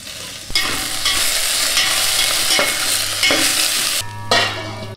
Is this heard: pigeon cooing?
no